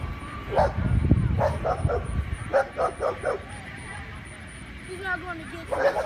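Dogs barking and yipping in repeated bursts during a dog attack outdoors in Topeka, loud and fairly close, with shouting voices and talk over the commotion.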